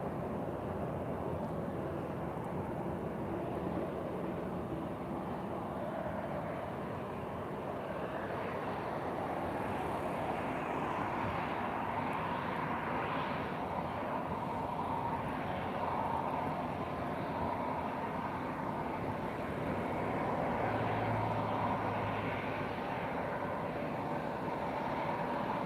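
A Lauda airliner lands at Lisbon Airport, a steady, broad jet roar that holds evenly for the whole stretch without a clear peak or break, heard at a distance with no voices.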